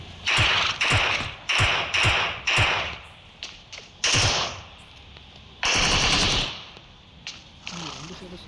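Gunfire in the mobile battle royale game BGMI: several loud, rapid automatic bursts crack nearby, separated by short pauses, with sharper single shots and quieter thuds between them.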